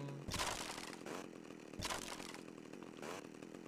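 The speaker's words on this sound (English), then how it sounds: "Is this the only way you can swing the chainsaw?" A chainsaw swung in GTA Vice City Stories: two revving bursts of buzzing engine whine, each rising sharply then trailing off, close and fairly quiet overall.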